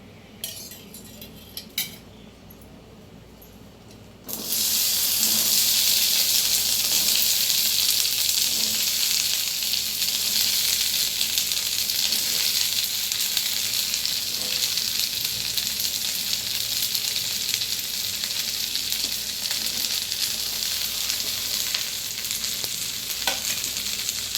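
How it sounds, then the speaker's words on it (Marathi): After a few quiet seconds with light clinks, a loud, steady sizzle of okra frying in hot oil takes over and continues without a break. "आता याच्यामध्ये मला भेंडी भाजून घ्यायची आहे."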